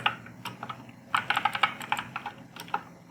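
CSS code being typed on a computer keyboard: close, quick bursts of crisp key clicks in uneven clusters with brief pauses between runs, heard alone without any talking.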